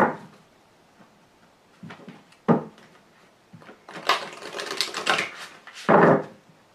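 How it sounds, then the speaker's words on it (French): Tarot cards are sorted and shuffled by hand in a series of brief rustling, riffling bursts separated by quiet pauses, close to the microphone. "Je vais trier les cartes."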